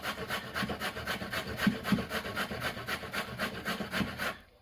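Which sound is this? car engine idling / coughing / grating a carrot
grating a carrot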